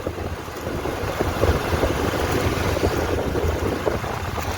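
A car engine hums steadily as it drives along a busy road near Shirdi crowded with pilgrims. The low rumble is continuous and muffled, with faint road noise underneath and no talking.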